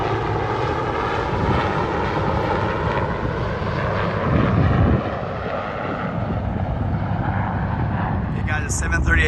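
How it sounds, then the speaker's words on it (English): A helicopter flies in low and fast over Washington, DC at night near the Lincoln Memorial, its loud, steady rotor-and-engine drone filling the whole stretch and swelling briefly midway. "Got a helicopter coming in hot here."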